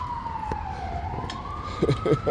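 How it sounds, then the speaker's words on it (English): A wailing ambulance siren sweeps slowly down then up in pitch, moderately distant, over road noise, with a few short sounds near the end. "As the ambulance sound is going, look."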